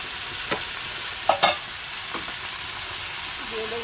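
Onion pieces fry in a pan after ginger and garlic paste is added, giving a steady close sizzle. A few sharp spoon scrapes and stirring knocks sound over it, with no talking.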